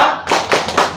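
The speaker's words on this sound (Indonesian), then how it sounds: "terima kasih tepuk tangannya" A group of Scouts claps in rhythm for a clap game at a Scout leader training course in Klaten: a few loud, sharp, roughly evenly spaced bursts of many hands striking together at close range.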